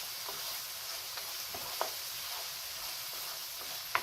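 Onions sauté in a pan with a soft, even sizzle, faint and steady, punctuated by a few light utensil taps, with no one speaking.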